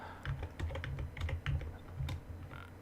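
Number keys on a computer keyboard are pressed in a quick run of soft, close clicks and thumps, one after another with no talking.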